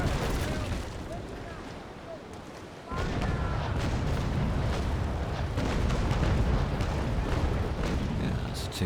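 Ship cannon salvos from the Naval Action naval warfare game: a dense, continuous rumble of heavy booms and blasts. A brief lull comes near the third second, then the barrage resumes at full loudness and stays heavy to the end.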